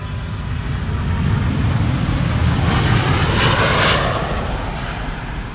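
Delta Airlines jet airliner, less than a year old, departing Amsterdam Schiphol Airport: a steady, loud engine roar with a broad rumble, swelling to a peak midway as the plane passes and then easing slightly, with no voices.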